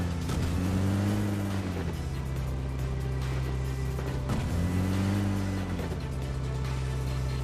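A car in the PUBG Mobile video game drives steadily with a loud, continuous engine drone that rises and falls in pitch twice as it speeds up and eases off, filling the whole stretch without talk.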